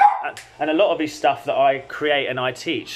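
A dog barks a few times in the background, partly masked by someone talking steadily over it indoors.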